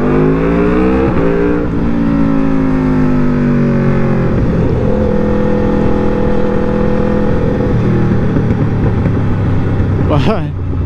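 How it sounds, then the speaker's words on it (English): A very loud superbike motorcycle revving through rising engine sweeps at close range, ending in sharp crackling backfire pops. "But it's backfiring like crazy."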